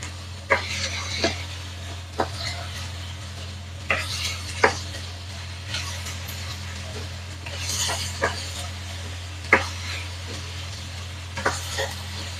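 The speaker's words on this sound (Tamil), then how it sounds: "வெட்டி வச்சிருந்த பீன்ஸையும் இதோட சேர்த்து நல்லா கிளறி விட்டு கொள்ளுவோம்" A utensil stirs chopped beans frying in a pan for vegetable string hopper kottu, with periodic clinks and scrapes against the metal every second or two over a soft, steady sizzle.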